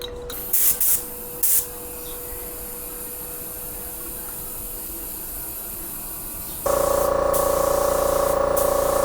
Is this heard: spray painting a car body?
yes